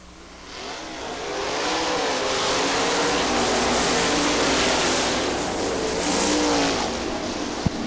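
Sprint race cars restarting at Hartford Speedway Park, a loud, sustained engine roar from a pack of cars accelerating down the main straightaway, swelling and holding steady for several seconds with no talk.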